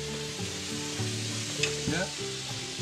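Food sizzles steadily while frying on a disco cooker (a plough-disc pan) in Río Negro, Chile, with occasional stirring and scraping over a continuous close hiss.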